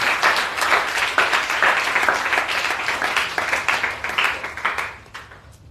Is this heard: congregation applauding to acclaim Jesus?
yes